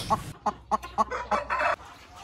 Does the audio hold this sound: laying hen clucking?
yes